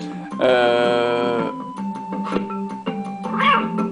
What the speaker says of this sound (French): Et oui, là on miaule comme un chat forcément.